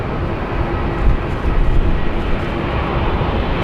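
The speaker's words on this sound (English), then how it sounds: "The LATAM 787-9 operating between Sydney and Santiago with a stop in Auckland" A LATAM Boeing 787-9 airliner at Sydney Airport produces a steady, loud broadband engine roar with gusty wind buffeting. It holds throughout without speech.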